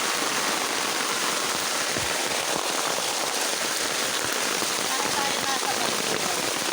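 Heavy rain pours down in a rural provincial setting as a storm arrives, a constant loud hiss of drops hitting surfaces that stays even from start to finish.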